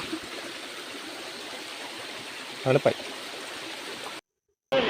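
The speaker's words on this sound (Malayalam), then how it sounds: "വനത്തിലെ അരുവിയിൽ നിന്നാണ് ഞങ്ങൾ വെള്ളം കുടിച്ച് പോകുന്നത്" A forest stream rushes steadily nearby with a constant watery hiss, briefly interrupted by a short voice and a moment of silence near the end.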